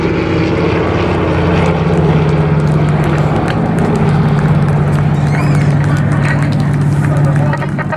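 Griffon and Merlin piston aircraft engines of the Battle of Britain Memorial Flight drone loud and steady at an airshow display, a continuous deep propeller roar with a public-address commentator talking over it.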